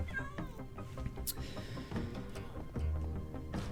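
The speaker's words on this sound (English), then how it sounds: "I think I might have a cat up here." Cat meowing in the video game Minecraft, in a survival world: a few short synthetic mews at moderate level over a steady background of game ambience and music.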